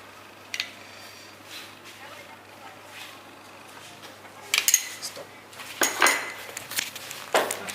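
Utensils scrape and clink against a dish while strawberry coulis is added to mascarpone, a few sharp metallic taps and scrapes clustered toward the end over a quiet kitchen background, with faint talk.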